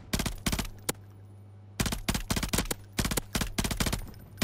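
BP50 rifle firing in a Call of Duty battle royale resurgence match, rapid close bursts of sharp popping shots in short clusters separated by brief pauses, loud and dry over a low steady hum.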